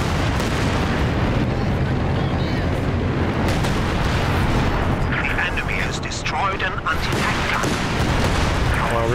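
Company of Heroes 2 artillery pounds a city battlefield in a loud, continuous barrage of booming impacts and blasts, with battle voices speaking through the din.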